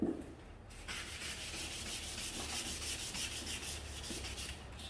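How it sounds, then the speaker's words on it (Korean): Steady back-and-forth rasping of sandpaper on a wooden piece, close and continuous, with a rhythmic scratchy texture and no voices. "사포질을 아주 정성스럽게 오랜 시간 동안 잘 해주세요"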